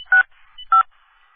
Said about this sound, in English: What's that dialing? Is someone else trying to use the phone?